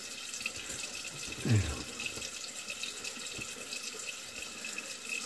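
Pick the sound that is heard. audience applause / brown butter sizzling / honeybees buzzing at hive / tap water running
tap water running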